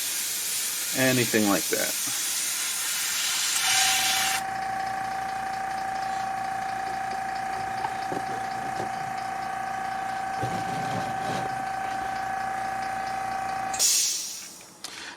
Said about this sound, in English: Now, I do have a compressor with a tank. You just heard it refilling.